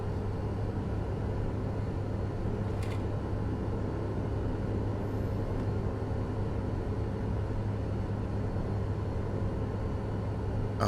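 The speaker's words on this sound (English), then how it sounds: "Oh, truck's just like coasting." A Freightliner FLD truck coasts in American Truck Simulator, giving a steady, loud low rumble of road and drivetrain noise that holds evenly throughout with no voices.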